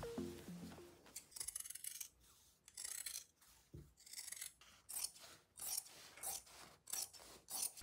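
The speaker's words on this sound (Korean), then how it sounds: "박음질 부분은 뜯기 귀찮으니 피해서 잘라줍니다." Scissors snip through clothing fabric while taking apart garments for reuse, a series of crisp rasping cuts in uneven bursts, close and fairly quiet, with no talking.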